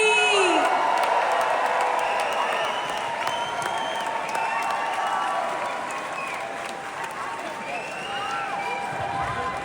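A large crowd applauds steadily with cheers and whoops rising over the clapping, continuing loudly throughout.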